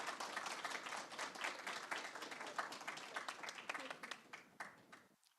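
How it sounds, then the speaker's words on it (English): An audience at a high school debating competition finals applauds the opposition team, with brisk, steady clapping from many hands that fades and stops near the end. "give them a round of applause, absolutely."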